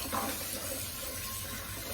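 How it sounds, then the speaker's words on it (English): Cold tap water runs steadily over washed breast pump parts in a small kitchen sink, a continuous close faucet splash with no talking. "I'm going to make sure I rinse those thoroughly."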